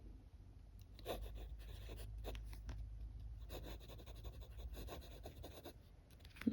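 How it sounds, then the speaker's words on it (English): Fountain pen nib scratching across paper as someone writes, a close, quiet series of short dry strokes and scrapes with brief pauses between them. "some of these nibs sound scratchy, but it's just the friction between the"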